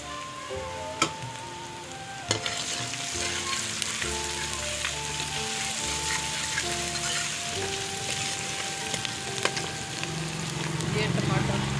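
Garlic ginger paste sizzling in hot oil with fried onions for Lahori white chana curry, a continuous close crackle with occasional stirring knocks, under background music.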